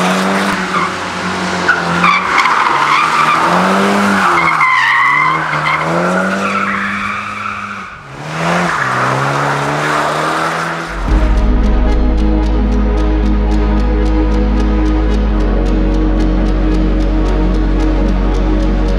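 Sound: Toyota GR Supra 2.0 drifting, tires skidding

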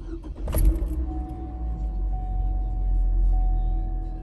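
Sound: Hummer H3 engine cranking and starting

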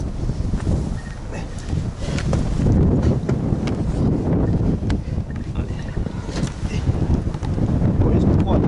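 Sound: wind blowing through a WW2 bunker

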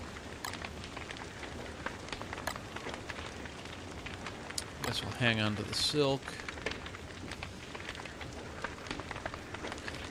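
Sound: rain in the video game Don't Starve

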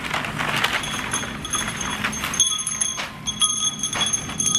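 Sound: wind chime tinkling

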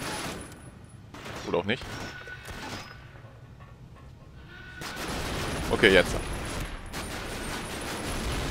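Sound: gunfire at planes in video game Medal of Honor Rising Sun

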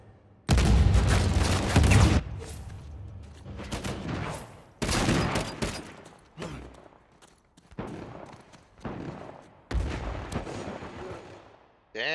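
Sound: gunfire in video game Uncharted 4

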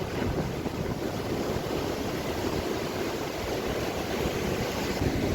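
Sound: Atlantic Ocean waves at Oualidia, Morocco

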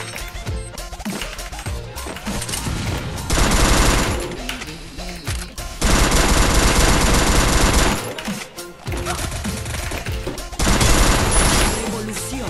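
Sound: double Vector gunfire in Free Fire video game

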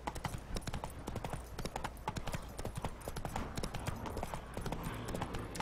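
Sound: hooves of the horse Roach clip-clopping, from video game The Witcher 3

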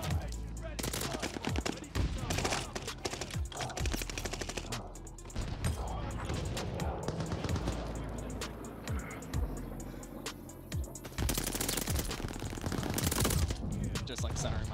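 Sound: gunfire from a gun in the video game Call of Duty: Vanguard

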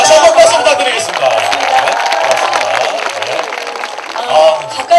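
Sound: audience applause at a live broadcast concert

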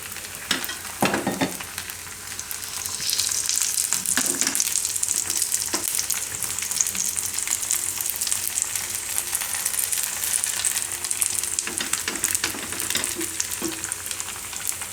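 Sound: rice flour pudla frying with oil on griddle

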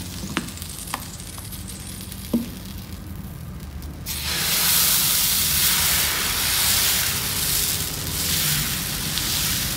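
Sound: dosa batter poured onto a hot griddle, sizzling

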